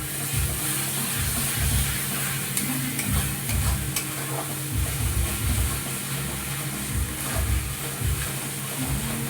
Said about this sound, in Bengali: একটু গরম মশলার গুঁড়ো দিয়ে দিচ্ছি আমি মশলার সাথে কষিয়ে কষালে ভালো হবে